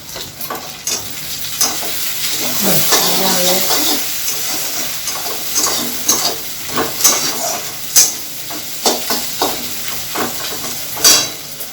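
Onion fried with ginger-garlic-onion paste, black pepper and garam masala powder sizzles loudly in a pan, with close scraping stir strokes that come in quicker bursts toward the end.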